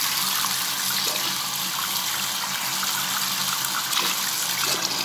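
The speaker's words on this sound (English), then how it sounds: "to water cool it, what you gotta do is put it in your sink" Water runs from a sink tap in a steady, hissing stream that splashes continuously into the basin nearby, with no voices over it.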